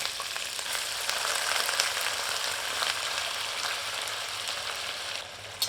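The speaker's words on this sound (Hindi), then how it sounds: "अब इस बर्तन में चिकन सम्मिलित करते हैं।" Chicken pieces drop into hot oil in a pan and sizzle loudly and continuously, a dense crackling hiss that holds steady throughout.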